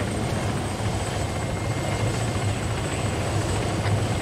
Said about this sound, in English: Let's get to the chopper.